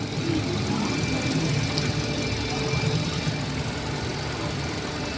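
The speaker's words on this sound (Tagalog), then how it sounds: "Palyado makina." A Hyundai Accent engine with a misfire idles close by, a steady rough rumble with an uneven, knocking texture and no talk.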